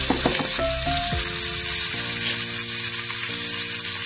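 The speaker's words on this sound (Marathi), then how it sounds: "हा तडका आपण आपल्या पुदिन्याच्या चटणीवरती टाकून घेऊया" A tempering of turmeric and curry leaves hits mint chutney with a loud, steady sizzle that runs throughout, with a few light utensil clinks at the start.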